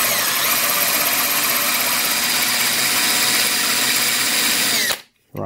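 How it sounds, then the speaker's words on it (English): A small 4 mm drill bit bores steadily into a Suzuki DR200 motorcycle frame, a loud, continuous whining grind that holds for about five seconds before cutting out abruptly, with a brief near-silence and then faint background noise. "I've gone for a much smaller drill, but this is about, I don't know, 4 mil, I think it is."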